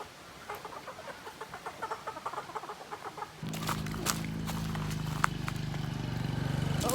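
Chickens of different breeds roosting in trees in the rural mountains of Thailand give faint, quick, rhythmic clucks, then a steady broad noise takes over and largely masks them for the second half.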